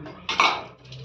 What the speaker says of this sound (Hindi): मैं अपने बर्तन रख रही थी।